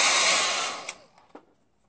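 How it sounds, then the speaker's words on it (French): A hair dryer blows steadily at close range to dry paint in a studio, a loud airy roar that winds down and cuts off, followed by a couple of faint knocks. "tu peux sécher la peinture au sèche-cheveux"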